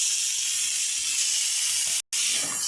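Prawns added to hot, spiced potatoes in a pan fry with a loud, steady hiss that cuts out for an instant before resuming, with no talking.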